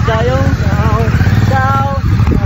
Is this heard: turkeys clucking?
no